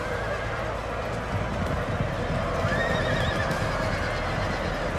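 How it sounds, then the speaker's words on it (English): Cavalry horses in Napoleon Total War neigh and whinny over a dense bed of galloping hooves and battle din, a huge massed charge sounding loud and continuous throughout. "I don't recall a time where I've seen that many cavalry on the field all at once. It's a sea of horses."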